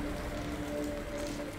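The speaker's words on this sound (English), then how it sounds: "Rain is loud. Rain is very loud." Heavy rain in the video game Entropy: Zero 2 pours down as a dense, constant hiss, loud and unbroken, with a faint low tonal hum beneath and no voices.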